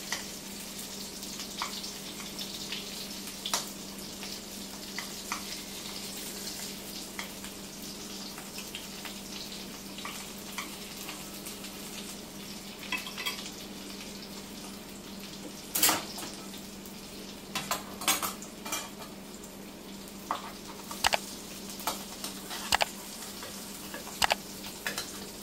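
Stuffed bitter gourd (karela) sautéing in a pan, Maharashtrian style, a continuous close sizzle with scattered sharp clinks and scrapes of utensil against the pan, growing more frequent toward the end, no talk.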